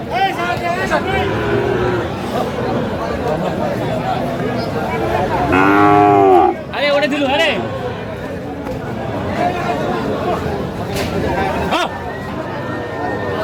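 A single loud, close moo rises from a Sahiwal calf at a crowded cattle market, surrounded by steady talking and general crowd babble.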